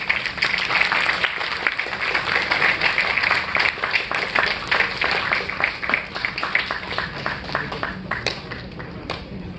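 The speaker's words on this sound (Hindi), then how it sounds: "बजाओ ताली" An audience at a college drama show claps loudly and steadily at close range. Many hands overlap in a dense, continuous round of applause.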